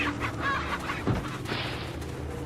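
Chickens cluck inside Resident Evil 4, a steady, moderately loud run of fowl calls with a brief thump near the middle and no talking over it.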